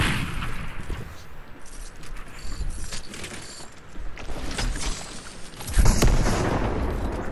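Fortnite battle sounds with an RPG rocket blast and gunfire: scattered shots and mechanical clatter, then a sharp loud explosion near the end, over continuous background game noise.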